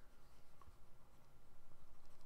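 An eraser rubs writing off a board during a calculus lecture on derivatives, a quiet run of quick rhythmic back-and-forth strokes with no voice over it.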